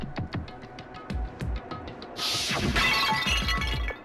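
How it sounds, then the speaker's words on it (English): A Monokuma bottle shatters in the Danganronpa video game, a loud burst of breaking glass that follows a series of sharp thumping hits and lingers as scattering fragments. "I grabbed the Monokuma bottle from the shelf and smashed it across her head."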